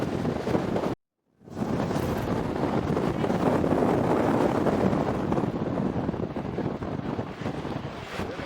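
Strong wind buffets the microphone with a steady, loud roar at a geyser field in Iceland, broken by a brief dropout near the start, then continuing unbroken to the end.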